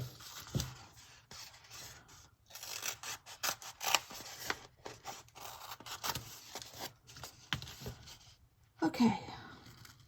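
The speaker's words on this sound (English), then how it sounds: "I think I could do it with these scissors." Scissors snip and rasp through material in short, uneven bursts separated by brief pauses, close and fairly quiet, with a louder rustle near the end.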